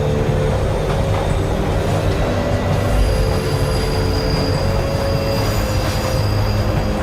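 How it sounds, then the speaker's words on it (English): A cartoon subway train starting to move rumbles steadily with squealing wheels and a sustained mechanical hum, loud and close throughout. "This subway has been start to move."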